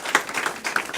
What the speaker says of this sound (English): Clap for April.